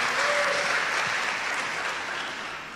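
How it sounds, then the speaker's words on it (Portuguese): A church congregation claps together in a full, close burst of applause that holds steady and then gradually fades. "Aplausos para esses 3"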